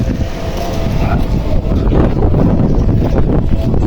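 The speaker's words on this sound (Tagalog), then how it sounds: "Ang lakas ng hangin" Strong wind blowing steadily outdoors on a Sunday outing in Japan, a loud continuous roar with gusty low rumble that stays close and constant throughout.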